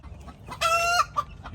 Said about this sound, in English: And here are the baby chicks.